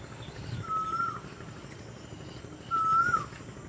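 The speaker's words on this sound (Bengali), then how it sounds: "বুঝেছো কোকিল ডাকছে এত সুন্দর লাগছে শোনো" A koel calls twice on a riverside ashram by the Ganges in spring, two clear rising whistled notes spaced about two seconds apart, moderately distant over a quiet outdoor hush.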